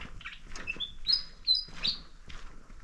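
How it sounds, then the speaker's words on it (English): Small birds in trees near a large rock monolith give a few thin, high chirps and brief whistles, faint and intermittent over quiet outdoor ambience. "Oh, nice, some birds in the trees."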